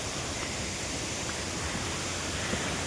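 A village waterfall in monsoon season, swollen with extra water, pours in a steady, dense rush that stays even and close throughout, with no voices over it.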